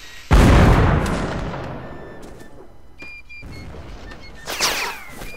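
Artillery cannon shot in Mount and Blade Napoleonic Wars, a single loud, close boom with a long decaying rumble, followed by a fainter distant blast and battlefield noise.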